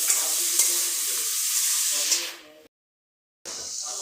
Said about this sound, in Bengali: সিদ্ধ ছোলাগুলো একটু ভাজা ভাজা হবে আলুর সঙ্গে